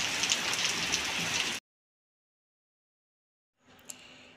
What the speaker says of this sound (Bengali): প্রচুর বৃষ্টি হচ্ছে মুষলধারে।